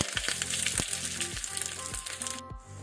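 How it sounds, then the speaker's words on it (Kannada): Mustard seeds crackle and spit in hot oil alongside frying garlic and curry leaves for a Mangalore cucumber curry tempering, a close, steady sizzle punctuated by sharp rhythmic pops that fade at the end. "ಸಾಸಿವೆ ಚಟಪಟ ಆಗಲಿ, ಕ್ರ್ಯಾಕಲ್ ಆಗಲಿ"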